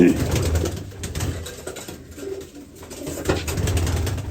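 Domestic pigeons cooing in a loft, soft low coos under steady talk from people nearby, with the birds close and moderately loud.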